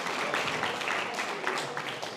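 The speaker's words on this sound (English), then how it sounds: "Claps for the kitchen team, please" Audience at a memorial gathering in Kortrijk, Belgium claps for the kitchen team, a dense patter of applause with scattered louder claps and murmuring voices underneath.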